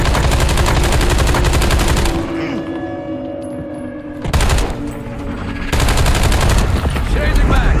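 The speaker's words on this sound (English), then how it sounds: "Intel reports detonation of cradle bombs in the AO." Video game Call of Duty: Warzone: loud, dense bursts of rapid gunfire and explosions from cradle bomb detonations fill the scene, broken by a short lull before the barrage resumes.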